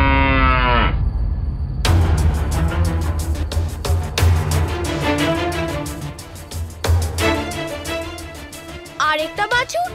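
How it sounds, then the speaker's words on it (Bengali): A calf moos in long, drawn-out calls, loud and close, with more cattle lowing through a busy farmyard scene while people talk around the animals. "আরেকটা বাছুর, এটা আবার কে?"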